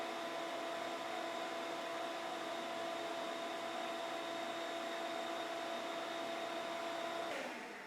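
Dust collector drawing air through a ten-foot pipe with a 90-degree bend, a loud steady whining roar close by that holds evenly, then the motor cuts off and spins down at the end, no voices.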